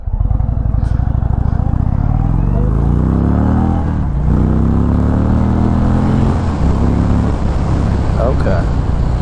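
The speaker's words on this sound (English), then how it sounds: "I'm gonna try this in standard mode, 0 to 60." An Indian Springfield Darkhorse motorcycle in standard mode pulls hard from a standstill to 60, its loud engine note climbing through several gear changes, with heavy wind rush throughout.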